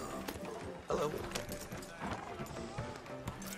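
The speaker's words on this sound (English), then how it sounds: "And there's my horse." Horse hooves clip-clopping in the video game Red Dead Redemption 2, a quick irregular patter of steps under game sounds while brief voices speak over them.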